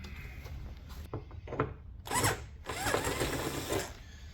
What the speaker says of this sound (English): I may have to just drill that hole out a little bit to get it to fit